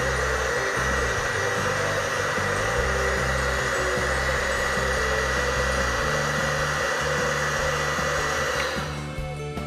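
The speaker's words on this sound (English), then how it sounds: "I dry gold sediment use hot air gun." A hot air gun blows over gold sediment recovered from CPU scrap, giving a loud, continuous roaring whoosh that holds steady for several seconds and eases slightly at the end.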